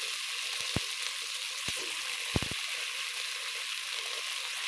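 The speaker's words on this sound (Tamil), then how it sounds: "இப்போ கத்திரிக்காய் அந்த எண்ணெயில் நல்லா வதங்கலாம்." Eggplant fries in oil in a pan, crackling and sizzling steadily, a continuous frying hiss with a few sharp pops and taps, no voices.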